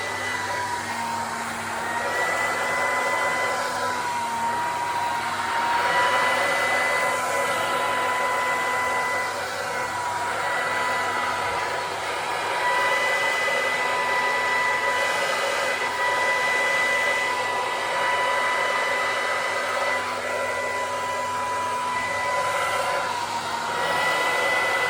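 Hair dryer blowing continuously at close range, a steady whooshing whine with a constant motor hum and no breaks, heard alone without talk.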